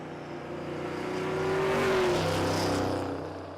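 Drag racing cars launching side by side at Texas Motorplex during Rocky Mountain Race Week, a loud continuous engine roar that swells to a peak and then eases slightly as the cars pull away.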